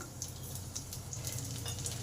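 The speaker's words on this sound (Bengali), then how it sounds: "এবার রসুন কুচিটা দিয়ে দিলাম" Chopped garlic frying in oil with cumin seeds and chilli, a steady close sizzle with faint crackles and soft pops throughout, no voices.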